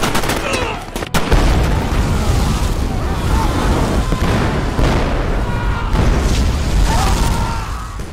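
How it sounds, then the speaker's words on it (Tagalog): A loud explosion booms after a couple of sharp cracks, followed by a long rumbling roar with scattered gunshots and debris. "pinindot ni Swagger ang detonator at nagkaroon ng pagsabog."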